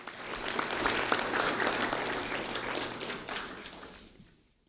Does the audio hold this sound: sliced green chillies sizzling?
no